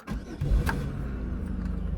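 A Chevrolet Monte Carlo, just back together after an engine refresh, cranks briefly and catches, then settles into a steady, close idle that runs to the end.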